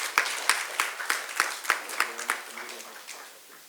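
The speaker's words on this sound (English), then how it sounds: "Y'all can clap." Sparse applause at a press briefing: a small group claps for an honoree, about eight sharp, evenly spaced claps close by, then a brief murmur of voices.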